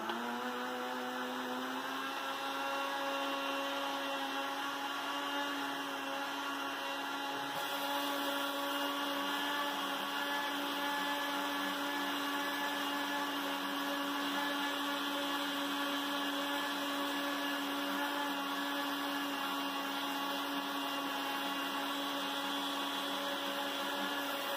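A kitchen blender whirs continuously while blending a milk-based mayonnaise, a loud steady motor whine with a rising pitch in the first seconds and a slight shift in tone partway through, running alone without talk.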